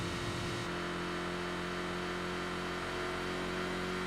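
A Toyota Supra in sedan form accelerates in the racing game Enthusia Professional Racing. The loud, steady engine drone holds a sustained pitch with no talking.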